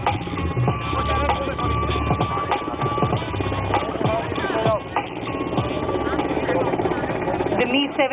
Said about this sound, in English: The Mi-17 is going to demonstrate the dousing of fire again. But this time it will fly much lower